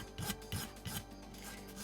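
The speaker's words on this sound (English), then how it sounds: "It's a fairly coarse file. If you have kind of a light touch with it" A coarse file rasps on a plastic model kit panel in three short, scratchy strokes at an even pace, fairly quiet and close, with a faint steady hiss between strokes.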